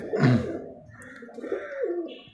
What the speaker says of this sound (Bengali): অসাধারণ একটা কবুতর